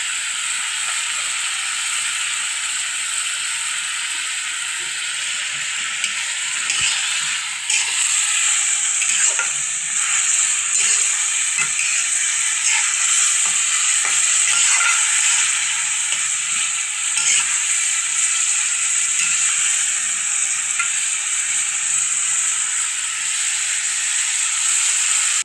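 Onion paste, garlic paste, turmeric and chili frying in a pan, giving a loud, continuous sizzle with occasional scraping and clinking stirs throughout, and no one speaking.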